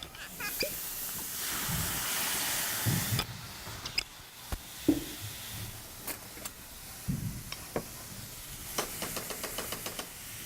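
Sherry wine hits a hot pan on high heat with a broad, steady hiss of steam that fades after a few seconds, followed by scattered knocks and clicks of cookware nearby, with no talking.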